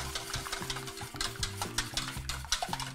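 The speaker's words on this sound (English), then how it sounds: "I give it a whisk." Eggs beaten with a splash of milk, salt and pepper, a quick run of light rhythmic taps and clicks from a whisk against a bowl, close but quiet, with no voices.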